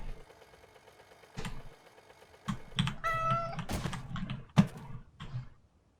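A cat meows a few times in a video game, short tonal calls rising above faint background clicks and tapping, moderately close.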